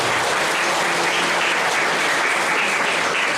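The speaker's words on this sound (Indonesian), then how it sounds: "Kita aplaus untuk KOR." A church congregation at a Christmas Eve Mass claps for the choir, a dense, steady wash of applause filling the whole stretch at full loudness with no speech over it.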